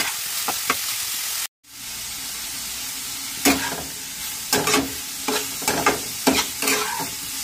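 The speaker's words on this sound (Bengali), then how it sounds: "কুচিয়ে রাখা গাজর, বাঁধাকপি। ভেজে নেবো।" Chopped carrots and cabbage sizzle steadily in hot oil, with a spoon stirring and scraping the pan in short repeated strokes.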